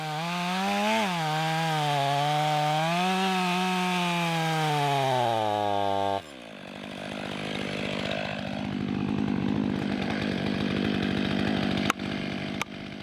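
A Stihl 500i chainsaw revs high, then bites into the hinge wood while a tree is being felled. The close, loud saw note drops into a rougher, grinding cutting sound, with a sharp crack near the end.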